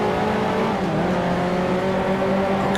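A race car engine runs loud and close during on-track driving, a steady droning roar with slight shifts in pitch as it drops through the gears.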